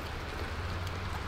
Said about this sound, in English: we've got a rainy day here in Jacksonville today